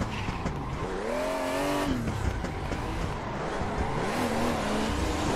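Tires squeal and skid as a car spins out while drifting in Assetto Corsa, with wavering screeches over a constant engine roar.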